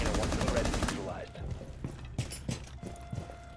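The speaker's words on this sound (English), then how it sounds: "guns blazing" Rapid gunfire in the tactical shooter Rainbow Six Siege: a dense automatic burst fills the first second, then scattered single shots and thuds follow at varying distances, mixed with game sounds.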